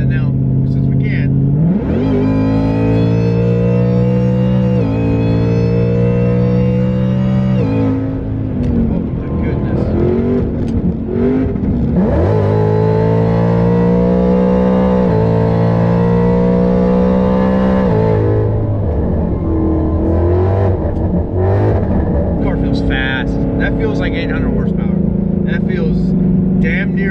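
A supercharged Ford Mustang GT running E85 pulls hard at wide-open throttle on the street, its engine climbing loudly through long rising sweeps with brief dips between gears and a supercharger whine on top, up close from inside the car.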